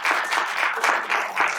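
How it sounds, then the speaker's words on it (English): Audience clapping at a conference keynote fills the space with loud, steady applause that swells and dips in waves, close and continuous without voices. "please clap"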